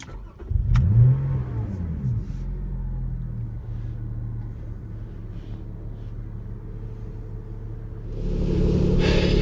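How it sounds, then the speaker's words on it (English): A Lotus Evora GTE sports car engine fires up with a sharp burst, then settles into a deep rumbling idle before the exhaust swells louder near the end. "still produce a lovely exhaust tone in their own right"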